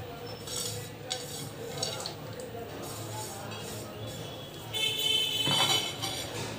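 A spoon scrapes and clinks against a bowl while coconut ladoo ingredients are mixed with cashew, almond and walnut powder and cardamom, a quiet irregular stirring with soft metallic taps and a brief louder clatter near the end.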